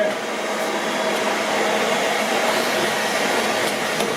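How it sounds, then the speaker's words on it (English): A vacuum cleaner's blower roars in a steady, loud, unbroken rush of air as it blows out a dryer vent, alone without talk. "This vacuum has a blower on it"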